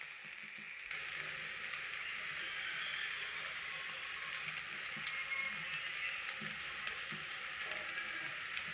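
Onions and masala sizzling in Dalda in a pan for chicken biryani, a steady close frying hiss that starts softly and then holds even, with a few faint clicks.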